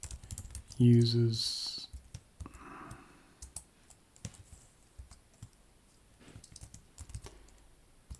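Computer keyboard typing while entering login credentials in a Node-RED admin setup, a quick burst of clicky keystrokes near the start followed by sparse, faint taps under a man's ongoing speech.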